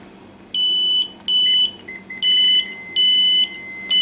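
Several R410a refrigerant leak detectors beep in loud, high-pitched electronic tones, sounding in repeated bursts of about half a second with brief gaps between, close and clear with no talking.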